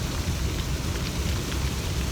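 Rain falls steadily as a dense, even hiss with a low rumble beneath it, loud and continuous throughout with no voices.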